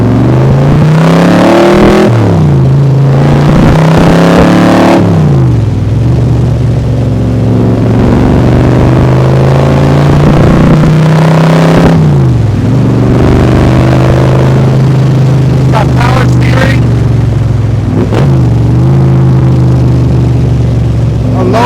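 A 2020 Backdraft Cobra Iconic Edition roadster accelerating at part throttle, its engine note rising loud and close in several pulls with brief dips between gear changes, no talking.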